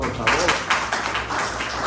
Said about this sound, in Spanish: Un aplauso para su compañera, por favor.